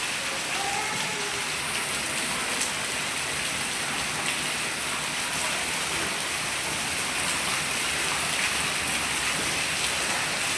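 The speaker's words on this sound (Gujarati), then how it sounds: "અચાનક વરસાદ જબરજસ્ત ચાલુ થઈ ગયો છે." Heavy evening rain pours down steadily and densely nearby, a constant loud wash of drops with no break and no voices.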